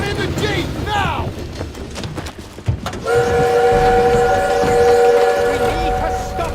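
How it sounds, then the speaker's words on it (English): A train rumbles along in a World War II video game battle scene, its steady rolling noise rising midway with sustained whistle-like tones over explosive combat effects and shouted voices. "We need to stop that train!"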